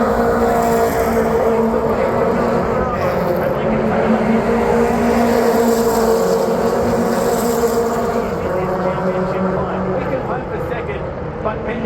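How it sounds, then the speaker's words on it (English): Race cars, Toyota 86s among them, lap Mount Panorama at Bathurst, their engines a steady, loud wash of roaring noise that stays continuous throughout, with a commentary voice running over the top. "While the Toyota 86s keep racing."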